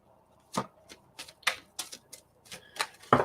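A deck of cards is shuffled by hand, producing a series of crisp, close riffles and snaps in an uneven rhythm, ending with a louder slap.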